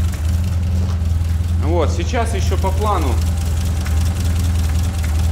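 A GAZ-24 Volga, just started on choke with new spark plugs, idles with a steady low rumble and slight knocking throughout, close and loud, while someone speaks briefly over it.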